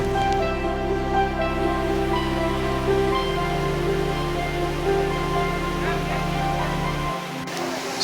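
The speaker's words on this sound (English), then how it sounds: "as we reached, the sound of waterfall became deeper and deeper and deeper" A waterfall near Ermai and Karinjeswara Temple at Ujire, Karnataka, roars as a steady, dense rush of water that holds at an even level, with low humming tones running underneath throughout.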